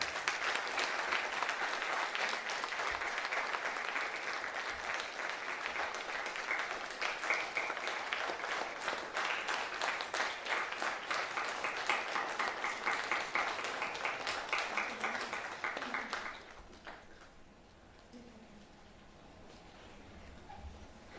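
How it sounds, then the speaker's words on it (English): Audience applause in a conference hall after dignitaries unveil a souvenir at an international microwave antenna and communication conference. Sustained, dense clapping for about sixteen seconds, then it drops to a quiet room. "Let us celebrate this milestone with a big round of applause."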